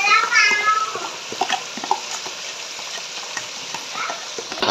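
Chicken with a prepared masala being stirred in a frying pan, steady sizzling and scraping strokes that carry on without pause, loudest at the start.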